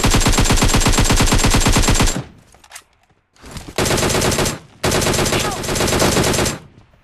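Rapid automatic gunfire from a mobile battle royale shooter game, loud sustained bursts with short pauses between them, no talking over it.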